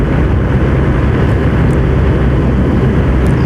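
A 125 cc motorcycle riding fast, a loud continuous engine roar mixed with heavy wind rush, steady and close throughout with no talk.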